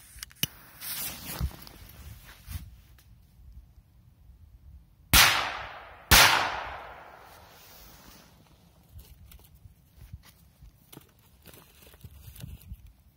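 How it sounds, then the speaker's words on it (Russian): A two-shot Korsar 4 firecracker fires twice, about a second apart, with two sharp, loud bangs, each trailing a fading echo amid quiet outdoor rustling and footsteps. "Дальше Корсар 4 на 2 выстрела."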